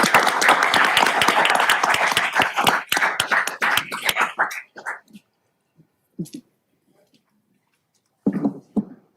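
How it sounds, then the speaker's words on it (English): An audience at a city council meeting gives a round of applause, dense clapping that fills the room and dies away after about four seconds, leaving scattered claps, a cough and brief murmurs. "How about a round of applause?"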